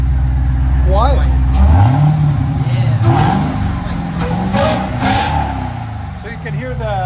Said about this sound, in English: So you can hear the supercharger.